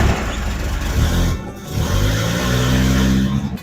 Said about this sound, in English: Listen to it run on 4 cylinders.